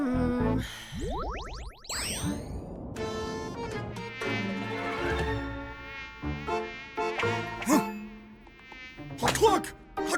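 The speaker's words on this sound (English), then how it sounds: "I was trying to get the mosquito." A cartoon mosquito buzzes in a children's animated show, sounding as quick rising whines and wavering tones mixed with boings and other cartoon effects.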